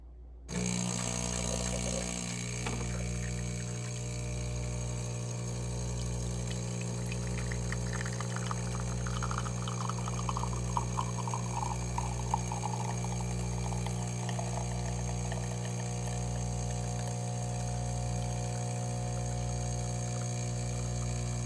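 An espresso coffee maker's pump runs steadily as it draws in water, a loud continuous mechanical hum with a regular pulsing throb, joined by a gurgling, rushing flow of water partway through.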